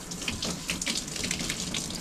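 Water runs steadily from a tap in an off-grid cabin as a newly installed hot water heater kicks on, a close, continuous splashing hiss with no voices.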